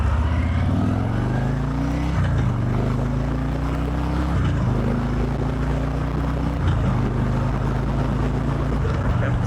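A 2019 Harley-Davidson FLHT Electra Glide Standard accelerates moderately, its V-twin rumble loud and close as it climbs through the gears. Each pitch rise ends in a brief dip at roughly two-second shift intervals, under steady wind noise.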